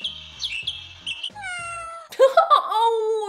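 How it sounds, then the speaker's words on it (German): A cheap iTag Bluetooth tracker gadget plays a synthetic cat meow through its tiny speaker, preceded by a few short electronic chirps and tones, then a clear, close, tinny meow. "Wir lassen es miauen."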